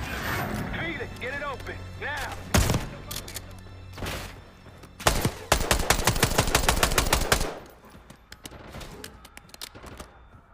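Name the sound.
shotgun gunfire in the video game Call of Duty Black Ops 6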